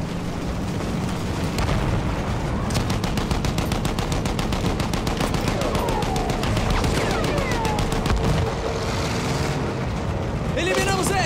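Gunfire and artillery fill a Battlefield 1 battle in a loud, unbroken barrage. Rattling shots and booming blasts pile up, with whistling shells cutting through.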